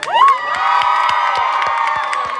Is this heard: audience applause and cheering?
yes